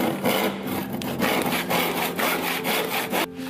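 A hand saw cuts corners off a wooden piece in quick back-and-forth strokes, a rhythmic rasping close by with no talk.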